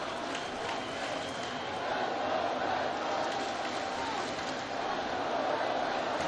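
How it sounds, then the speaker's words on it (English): A crowd at a Red Sox versus Yankees baseball game roars steadily in the stadium to rally the Red Sox, a continuous broad wash of voices under a commentator's talk. "Crowd trying to rally the Red Sox, who have out-hit New York 7-4."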